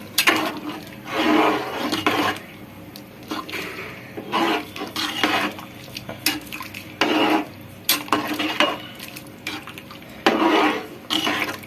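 Pulao being stirred in a pot for Telugu-style palavu, a spoon scraping and clattering against the metal in irregular bursts of rubbing and knocking, fairly close, with no talking.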